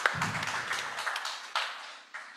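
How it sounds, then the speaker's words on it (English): An audience at a power-sector dialogue event applauding a speaker, with a short burst of clapping that thins out and fades quickly. "A round of applause for him."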